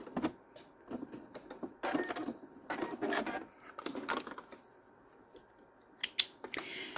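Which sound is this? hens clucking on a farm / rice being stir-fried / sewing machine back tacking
sewing machine back tacking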